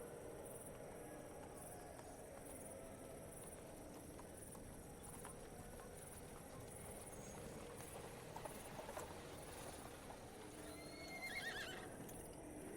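A horse sound effect plays: neighs and whinnies over clip-clopping hooves, with crickets chirring in the background. It stays steady and moderately quiet, and one louder whinny comes near the end, with no talk.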